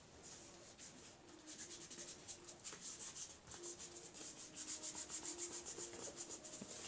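Gear Aid Tenacious Tape patch being rubbed down with a thumb, faint rhythmic close-up rubbing strokes throughout, soft and steady.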